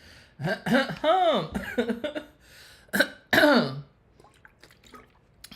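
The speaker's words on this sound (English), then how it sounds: "let me clear my throat" A person clears their throat and coughs several times in harsh bursts, close up, followed by quieter shuffling noises.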